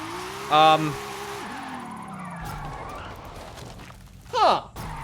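A rear-wheel-drive car drifting in a racing video game, tires squealing in two short bursts over a wavering engine tone, with someone talking over parts of the run.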